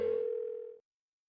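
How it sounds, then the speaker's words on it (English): Single steady phone tone from the video game Persona 4 Golden while a call goes unanswered, held for under a second and then cut off into silence. "Why won't she pick up the phone?"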